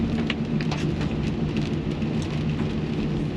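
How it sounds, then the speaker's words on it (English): Steady rain falling on a rainy city day, a dense, constant patter with light drop ticks throughout, close and fairly loud, with no voices. "As you guys can hear, it's raining."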